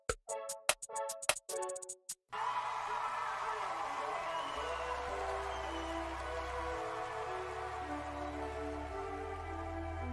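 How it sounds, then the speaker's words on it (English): At a 2020 VMAs performance, a sustained roar of crowd cheering and applause bursts in after a few sharp rhythmic beats. It continues loud and steady as a low hum rises beneath it. "Are those fake applause?"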